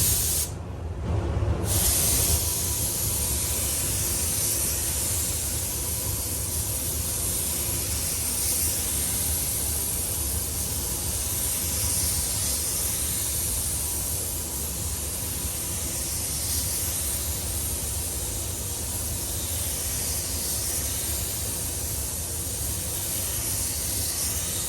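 Clear coat lacquer hisses steadily from a spray gun onto a Ford Fiesta ST in a repair shop, a close, continuous spray that runs for the whole stretch with no talk.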